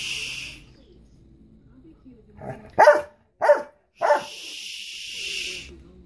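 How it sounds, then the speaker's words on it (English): A dog indoors in a bedroom gives three sharp, close barks in quick succession, loud against an otherwise quiet room. "No barking."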